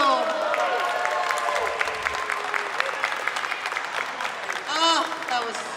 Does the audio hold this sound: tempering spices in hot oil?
no